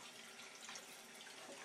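Hands are rinsed under a running tap at a sink, making a steady, close hiss of flowing water that holds evenly for the whole short stretch with no talk over it.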